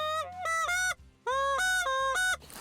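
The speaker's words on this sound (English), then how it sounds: "if you're having trouble breaking the call over like this" DRC goose call blown hard but not breaking over cleanly, giving a series of loud, nasal honks in bursts with a brief gap midway, alone and close.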